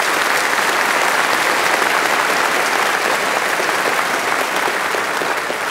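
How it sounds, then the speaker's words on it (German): Studio audience on a German Saturday-night TV game show breaks into sustained, dense applause that holds steady and loud throughout, with no talking over it. "Klatschen Sie noch mal jetzt"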